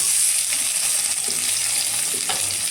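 Chopped tomato tipped into garlic and onion frying in oil for fried dal, producing a loud, steady sizzle with faint stirring clicks throughout, no voices.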